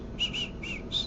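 A person whistles a short tune of four brief, clear notes, close and fairly loud, with no other voices.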